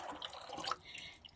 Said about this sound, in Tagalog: ibubuhos na natin yung pinagsama-samang sauce